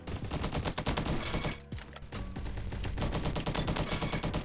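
SM-03 automatic fire in a shooter game, rapid continuous bursts of loud shots with a brief pause midway before sustained firing resumes.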